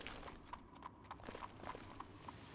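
Horse hooves clip-clop at a steady walking rhythm while riding in the video game Oblivion, a series of distinct, moderately close hoofbeats repeating evenly over a quiet background.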